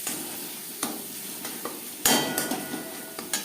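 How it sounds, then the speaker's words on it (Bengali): A spoon scrapes and stirs ground spices and cumin powder in a hot pan for a potato-cauliflower fish curry, giving a series of close, loud strokes over a steady frying sizzle, with no talk. "এক চামচ জিরে গুঁড়ো মশলার সাথে গুঁড়ো মশলা বেশ ভালো করে মিক্স করে দেবো"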